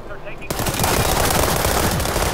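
SMG gunfire in the video game World War 3, a loud, sustained rapid burst of automatic fire that starts abruptly and rattles on without a break, with distant game ambience just before.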